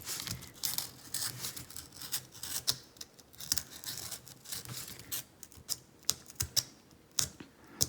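An X-Acto knife slices around a fondant fire flower cake topper, producing a close series of short, crisp scratching and clicking cuts that come in irregular bursts over steady faint background hiss, with no voices.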